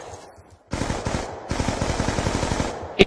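Rapid automatic gunfire in Call of Duty Black Ops 2 multiplayer: a quiet lull, then sustained bursts of loud rhythmic shots running for over two seconds, ending with a sharp louder crack.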